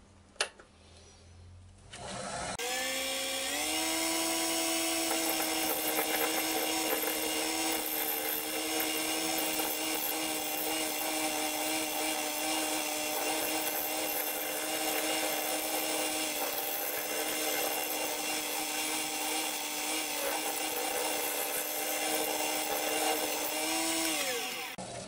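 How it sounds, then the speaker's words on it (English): A lathe spins a maple bowl with a steady motor whine as a round nose scraper works the outside edge, producing a continuous rough scraping hiss up close for over twenty seconds. "I'm just going to go over the outside edge here first with my round nose scraper"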